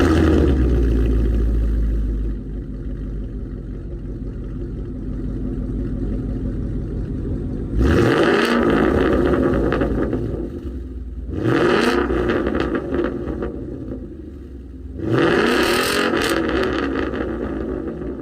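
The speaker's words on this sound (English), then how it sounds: "It has such a sweet rumble from the V8." A 2017 Ford Mustang GT V8 with a Roush axle-back exhaust idles with a deep rumble, then is revved hard three times, each loud, close blip swelling and falling back to idle.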